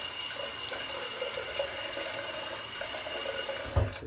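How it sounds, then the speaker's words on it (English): Water runs steadily from a tap into a sink in a continuous close hiss, then is briefly disturbed with a splash and clunk just before stopping. "A bit of water in here."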